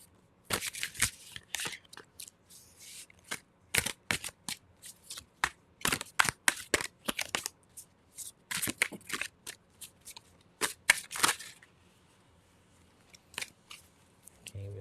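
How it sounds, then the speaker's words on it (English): Playing cards are shuffled in repeated quick riffling bursts, crisp and close, with short pauses between each round. "Can't even shuffle today."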